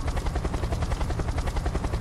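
Helicopter in the video game Unturned, its rotor chopping in a fast, steady rhythm, loud and close throughout with no voices.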